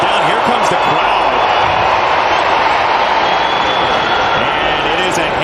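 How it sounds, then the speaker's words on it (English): A stadium crowd at an American football game roars on second down as a steady loud wall of noise, with a commentator talking over it throughout. "here comes the crowd"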